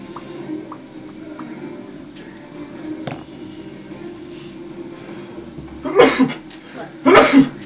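Two sharp sneezes close together near the end, heard over a low indoor hum and murmuring voices during a tabletop game session.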